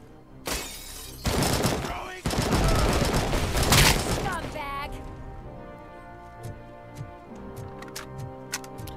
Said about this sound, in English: RoboCop using an AK.